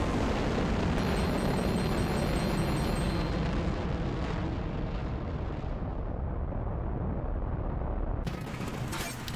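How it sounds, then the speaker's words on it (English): A transporter rocket launching in Spyro 3: Year of the Dragon, a loud, sustained roaring blast that thins and fades toward the end, with a faint tonal shimmer early on. "Launch the transporter rocket, one giant leap for tracking kind"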